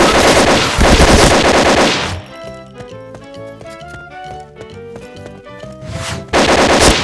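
Loud gunfire in the shooter video game Point Blank. Dense, rapid automatic bursts open and close the stretch, with sparser, tonal game effects and single shots in between. No voices.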